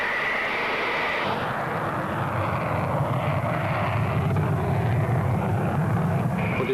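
A BAE Hawk jet in flight during an engine surge test holds a steady, broad roar, with a high whine at first that then sinks into continuous rushing noise.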